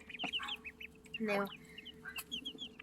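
Chicks and ducklings peep in high, quick chirps while a hen clucks nearby; there is a steady low background hum, and one louder cluck-like burst stands out in the middle.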